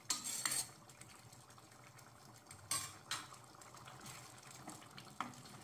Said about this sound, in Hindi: हम चम्मच की मदद से इसे हल्का सा प्रेस करेंगे।